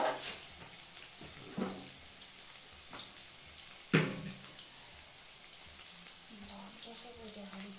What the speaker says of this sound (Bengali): একটু বড়াটাকে আমরা নেড়ে চেড়ে দেবো, তাতে ভালো করে ভাজা হোক।